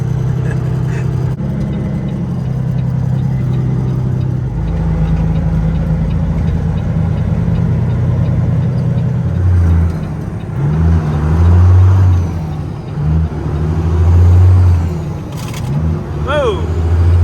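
A 2006 Peterbilt 279 dump truck with a manual shifter idles with a deep, steady diesel rumble, then revs up in several loud surges that rise and fall near the listener.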